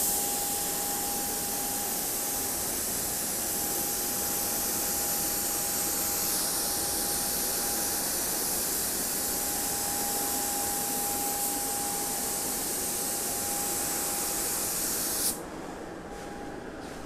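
A paint spray gun running at about 25 PSI inside an inflatable paint booth gives a loud, steady hiss that holds for around fifteen seconds and then cuts off abruptly.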